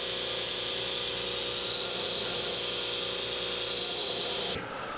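A bench grinder profile-grinds an 80CrV2 steel knife blank, giving a loud, steady abrasive whine and hiss held throughout, then cutting off abruptly near the end.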